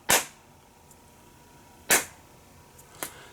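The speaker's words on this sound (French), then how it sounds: "je pourrais taper une pulsation très lente" Three sharp, loud taps sound alone, evenly spaced at a slow steady pulse about a second and a half apart, each a crisp close strike against a quiet background.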